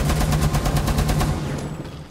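Rapid automatic gunfire in the Rainbow Six video game, a fast even string of close, loud shots that stops abruptly near the end, leaving a fading tail.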